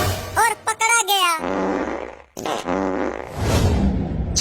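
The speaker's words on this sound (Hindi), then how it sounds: "छी छी छी छी, कितना पादता है।" A long, loud, rumbling fart rips out in a cartoon comedy scene, followed by a second drawn-out blast, with brief voiced exclamations just before.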